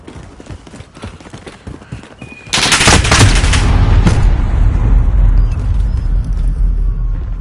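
Gunfire in Call of Duty Modern Warfare during an objective match: scattered light shots at first, then a loud, sustained burst of dense gunfire and explosion-like roar from about two and a half seconds on, continuing to the end.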